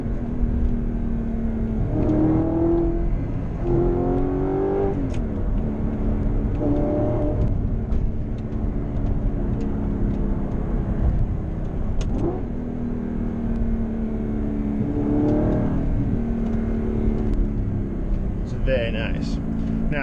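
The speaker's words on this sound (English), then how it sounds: "they fixed the exhaust, so it actually sounds, you know, like an exotic car should now" Audi R8 with the 4.2 V8 engine and a repaired exhaust, heard while driving: repeated rising revs and gear changes over a steady engine drone, close and loud, with a voice talking over it.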